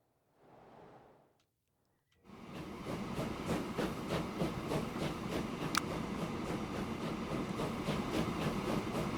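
A train runs in the rail-building game Transport Fever 2, a steady rolling rumble with rhythmic clickety-clack wheel beats that starts after a brief quieter sound and a pause, then continues alone at moderate level.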